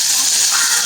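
Salt-marinated meat for a devilled dish sizzles in hot oil with a loud, dense, close hiss that continues without a break.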